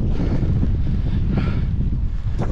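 Strong wind gusting outdoors on a road in Patagonia, a steady loud roar buffeting the microphone throughout with a faint rustle near the end and no talking.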